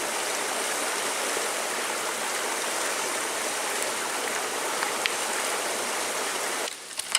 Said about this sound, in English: it's time to go filter some in this stream right behind me